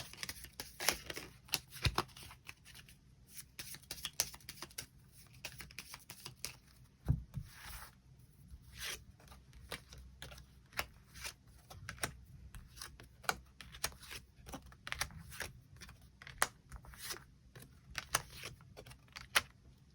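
Tarot cards are shuffled and drawn close up in a quiet room, a rapid run of soft crisp riffles, flicks and taps that rises and falls unevenly for the whole stretch, fairly faint, with no talking.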